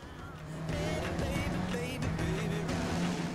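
A car driven in the video game Watch Dogs hums steadily with engine and road noise, fairly faint and continuous with no talk.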